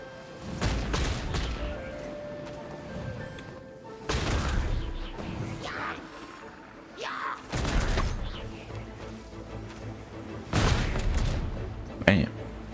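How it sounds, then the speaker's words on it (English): Explosions of barrels in the video game Genshin Impact: about five heavy booming blasts, each a sudden loud burst fading out, spread unevenly over several seconds against quieter game sound. "Those barrel explosions look really nice."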